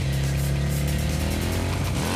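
Dante's motorcycle in the video game Devil May Cry 2 roars continuously, a loud, dense engine drone with a rising rev toward the end, filling the whole moment without talk.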